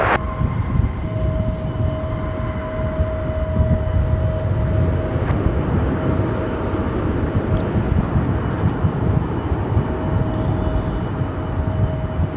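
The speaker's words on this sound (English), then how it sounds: "That was American Airlines Flight 2203 coming in from Minneapolis, 737-800." An American Airlines Boeing 737-800 landing at Dallas-Fort Worth International Airport after arriving from Minneapolis, a loud, steady jet roar with a sustained whine that stays strong throughout, with no voices over it.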